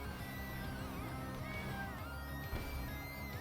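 A cat meows in a drawn-out, wavering cry, fairly quiet against a dense musical background with no talking.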